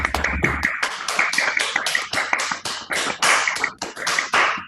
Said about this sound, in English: I would love to finish the session by clapping and thanking all of the speakers